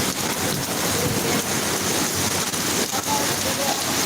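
Heavy Singapore rain drums down in a thick, unbroken wash of sound, loud and near, with no clear talk.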